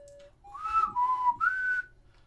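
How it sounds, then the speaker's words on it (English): Whistling from the video game Hyrule Warriors: Age of Calamity: a short, clear melodic phrase of a few gliding whistled notes, close and prominent over a faint low background. "Yeah, I can whistle too."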